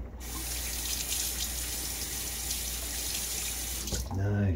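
Tap water running steadily while a safety razor is rinsed at a sink, a loud continuous splashing stream for about four seconds that stops abruptly, followed by a brief voice.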